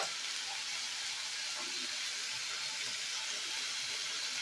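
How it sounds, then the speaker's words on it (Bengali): Onion, tomato and whole spices frying in a pan for a prawn curry, giving a steady, even sizzling hiss throughout with no talking. "আর পেঁয়াজ টমেটো ফোড়নগুলোকে একটু কষিয়ে নেব।"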